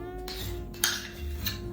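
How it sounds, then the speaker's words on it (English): Half a cup of Greek yogurt spooned into a bowl of chia-seed pudding, with soft scraping and a few light clinks of a spoon against the dish, close by and quiet. "lastly, we add 1/2 cup of Greek yogurt"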